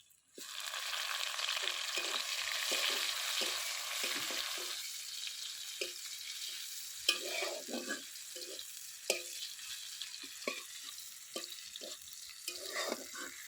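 Chopped onion hits hot oil with browned garlic for a fried khesari greens dish, giving a loud steady sizzle that eases slightly, broken by irregular spoon scrapes and stirring knocks near the pan.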